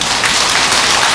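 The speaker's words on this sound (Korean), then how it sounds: "박수 한번 치세요." Loud, steady applause from a crowd at a Buddhist temple dharma talk, a dense wash of clapping filling the whole brief moment.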